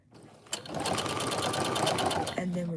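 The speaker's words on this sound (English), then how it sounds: "I'm gonna be sewing." A sewing machine stitching fabric while preparing items for a craft fair: a rapid, even mechanical whirr starts after a short pause, runs for about two seconds close up, then stops with a click.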